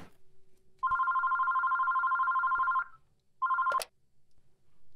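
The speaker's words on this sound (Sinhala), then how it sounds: "මං කිව්වට කෝල් එකක් කරන් බලමුකෝ." A telephone ringback tone sounds while a call is placed: one long steady ring of about two seconds, a pause, then the start of a second ring, clear and fairly quiet with no talking.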